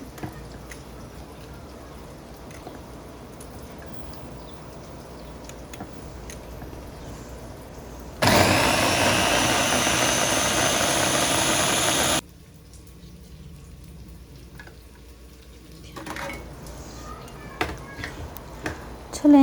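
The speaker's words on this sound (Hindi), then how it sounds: "इनको भी हम चॉपर में डालेंगे और अच्छी तरह से ब्लेंड करेंगे।" An electric chopper blends red and green chillies into a sauce, a loud steady whirring burst lasting about four seconds that stops abruptly, followed by quieter kitchen handling noises.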